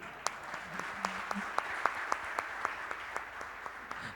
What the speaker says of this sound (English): You guys can clap properly also.